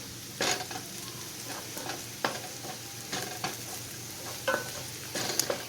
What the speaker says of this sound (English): Let's give this entire thing a mix.